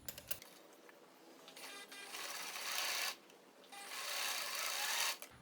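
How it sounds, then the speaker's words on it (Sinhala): A sewing machine stitches the shoulder seam of a sleeveless top, running in two sustained whirring bursts with a short pause between them, close and steady. "ඊට පස්සේ අඟල් භාගයක් මෙහුම් වාසිය වෙන විදිහට අපි මේක මහ ගන්නවා."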